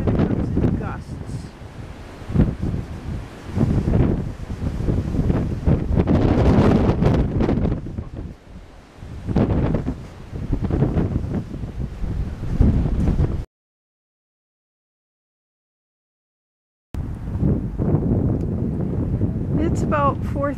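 Gusty wind from an October 2010 windstorm roars and buffets the microphone in surging waves, dropping to silence briefly before another gust returns.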